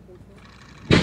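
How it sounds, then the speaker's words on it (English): A model rocket motor ignites at launch with an abrupt, loud roaring burst near the end, after quiet outdoor background. "we're going with Kevin's rocket"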